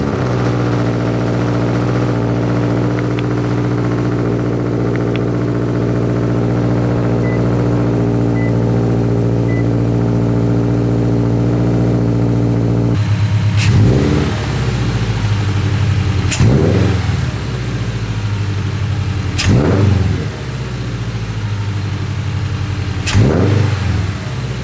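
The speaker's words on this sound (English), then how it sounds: "So let's start up the car and hear how she sounds." A car fitted with a K&N drop-in air filter idles smoothly for about thirteen seconds, then gets four or five sharp throttle blips that rise and fall, with the exhaust note loud and close.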